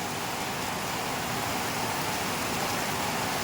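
A downpour of heavy rain falls on a backyard garden, a constant broadband roar of water striking surfaces, close and unbroken, with no one speaking.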